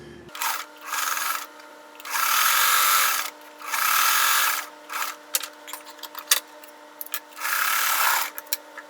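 A sewing machine stitches 2-inch black border strips onto a quilt in several loud, close bursts of fast whirring, separated by short pauses and small clicks, with no talking.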